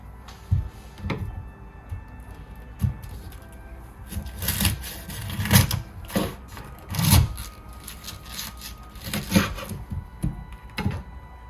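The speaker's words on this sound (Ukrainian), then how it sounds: "Зараз ми його будемо різати навпіл." A knife slices through a young artichoke on a kitchen surface, giving several crisp cutting and crunching strokes spaced irregularly, fairly close and moderately loud, with no talking.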